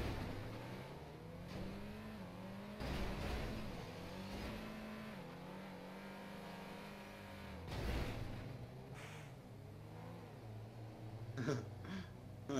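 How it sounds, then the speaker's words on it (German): Car engines in GTA V drone and rise in pitch through repeated revving swells, a steady mechanical hum with gear-change dips and a few sharper bursts near the end. "Ey, wie die Motoren schreien."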